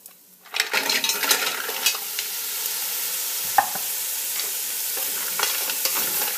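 Mussels go into a hot pan with browned aromatics and burst into a loud, steady, close sizzle, with a few clattering shell and utensil knocks over the frying.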